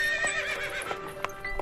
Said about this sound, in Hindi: कर्नल मुंदर एक घोड़ा ले आई।